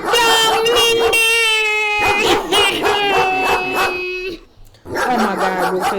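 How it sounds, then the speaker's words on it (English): A dog barks and howls loudly and close by in a sustained, strained series of drawn-out cries with short gaps between them, while people shout in the background. "Come get this dog"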